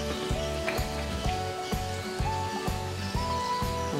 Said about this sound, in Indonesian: Ini ayam tadi kita lapisi tepung udah selesai ya. Sekarang mau digoreng